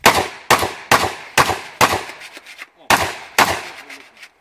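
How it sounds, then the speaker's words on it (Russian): Seven sharp gunshots crack out in an uneven series, each loud with a short decaying tail, with faint sounds between them. "стреляют"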